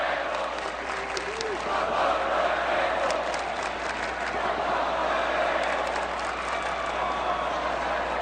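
Idaho Vandals fans chant at a college football game against Washington State, a broad, sustained roar from a large crowd filling the stadium at steady loudness.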